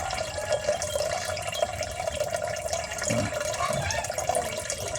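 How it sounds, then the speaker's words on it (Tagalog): Water is sucked up by a vacuum, a continuous hissing, gurgling rush of liquid with a steady drone beneath, close and fairly loud throughout. "Ngayon, binabakyum na yung tubig."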